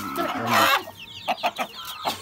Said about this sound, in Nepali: वा ओ भाले आयो